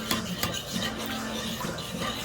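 A utensil stirs and scrapes through honey glaze ingredients in a bowl for salmon, producing close, continuous clinking and scraping with a few sharper taps.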